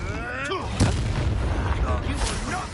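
A booming fire-spell blast from Incendio in the Hogwarts Legacy video game, a heavy low roar with a sharp burst near the start, rumbling under a voice and game effects.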